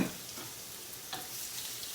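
Shrimp sizzle steadily in a hot pan for shrimp and grits, with a few soft scrapes and clacks as they are stirred and turned, close and even throughout.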